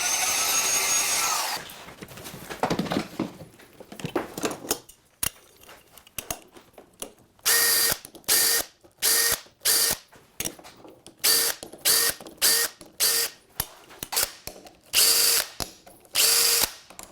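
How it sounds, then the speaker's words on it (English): A power drill fitted with a spring-loaded self-centering Vix bit drills pilot holes for door hinge screws, its motor whining in a rapid series of short bursts separated by brief pauses, close and loud. "I'm using a Vicks bit, a little spring-loaded, self-centering drill bit, so that I can drill pilot holes for each one of these hinge screws"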